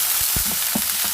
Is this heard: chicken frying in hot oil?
yes